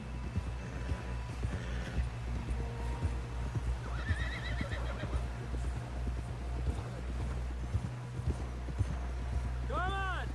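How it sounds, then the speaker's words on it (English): Rapid hoofbeats thud along in a steady galloping rhythm while a horse whinnies, with people talking over it, in the video game Red Dead Redemption 2. "Someone help John down off this horse"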